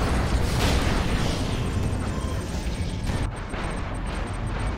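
Bombing run in the video game Command & Conquer 3 rumbles as a heavy, continuous roar of explosions, loud and dense at first, then easing slightly into a lower, sustained blast-filled din.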